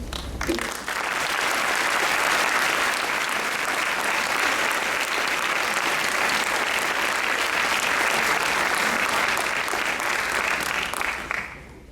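Audience at a 2019 graduation ceremony gives sustained applause, a full, even wash of many hands clapping for about eleven seconds before cutting off fairly abruptly, with no one speaking over it.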